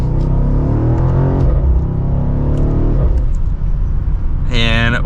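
A 2024 BMW M850i xDrive Gran Coupe accelerating hard from second gear, its engine note rising in pitch and then dropping at a shift before climbing again, heard from inside the cabin with a voice talking over it.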